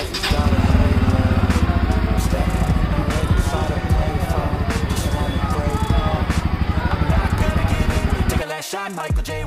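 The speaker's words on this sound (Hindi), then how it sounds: "तो गाइस बाइक का फर्स्ट स्टार्ट मम्मी के हाथ से करा दिया है।" A new Bajaj Pulsar N160 motorcycle engine starts for the first time and runs at a steady, close, loud idle for about eight seconds, then cuts off near the end.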